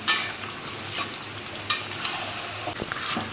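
Mutton and potatoes stir-fried in oil in a pan, a continuous close sizzle broken by several spatula scrapes and stirring knocks at irregular intervals.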